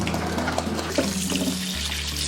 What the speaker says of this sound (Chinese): 接着我们把猪蹄清洗一遍